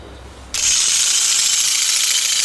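A telescopic-pole olive harvester, about 3 metres long, shakes branches in an olive grove during field trials. A low rumble is followed by a loud, steady, high-pitched mechanical buzz that starts abruptly and runs on unbroken, close by, with no talk.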